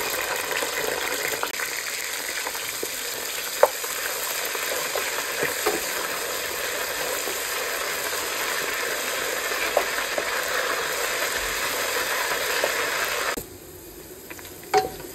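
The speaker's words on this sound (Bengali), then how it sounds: "পেঁয়াজটা সুন্দর করে ভেজে ফেলছি।" Onions frying in a pan give a continuous, even sizzle with occasional faint spoon taps, close and steady, before the hiss drops away sharply near the end; no voices.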